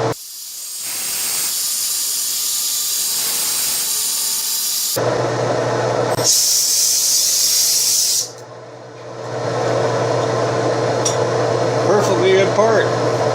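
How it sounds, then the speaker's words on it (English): Compressed air blasts loudly in long steady hissing bursts, blowing metal chips off a machined part in a production machine shop, with short gaps between blasts and a voice speaking over parts of it. "We blow the chips off"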